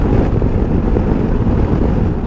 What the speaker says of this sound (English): as you can hear, at 9100 there's a lot of turbulence here, and this is all because of the windscreen is so tiny